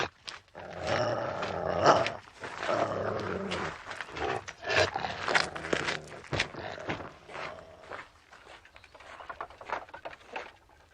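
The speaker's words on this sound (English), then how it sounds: "As a breed, despite their ferocious appearance, such dogs are seldom vicious." Large dog growling and snarling in low, rough bursts that rise and fall, fairly close, with scuffling movement around it and no speech.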